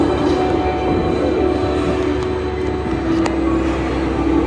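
Royal Mail's Mail Rail train running through an underground tunnel beneath Mount Pleasant sorting office, a steady loud rumble and drone continuing throughout with no pauses.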